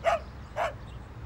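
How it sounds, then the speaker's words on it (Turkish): A dog barks in short, sharp bursts, three barks spaced about half a second apart, fairly close and loud over a quiet background. "Bir de köpeğiniz var ha?"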